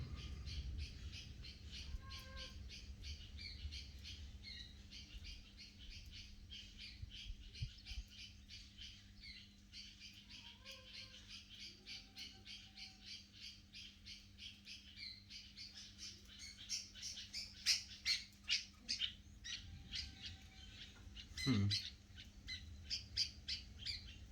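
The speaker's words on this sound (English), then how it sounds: "I can actually see what the little bird looks like now that's making that sound." A small bird squawks repeatedly in rapid, rhythmic bursts, faint at first and growing louder and busier, with a low hum and a brief sharp noise near the end.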